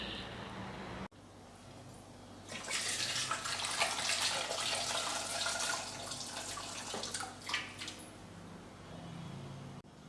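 Tap water runs steadily over potatoes being washed in a kitchen sink, a close continuous splashing rush that starts after a brief pause and carries on without speech.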